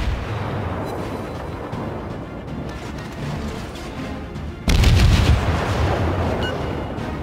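Heavy naval guns boom in a World of Warships battle with the cruiser Kiev, a dense rumbling barrage throughout that jumps to a louder, close salvo about two-thirds of the way through.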